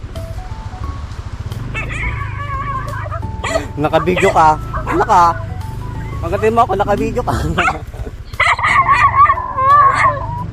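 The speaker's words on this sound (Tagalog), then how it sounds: "Ang daming aso." Several dogs bark, yip and howl together at a fair distance while people talk nearby over a steady engine hum.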